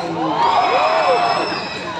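A festival crowd at an evening beauty and talent pageant in Bustos cheers and shouts, loud sustained whooping and high-pitched screams swelling together for a couple of seconds.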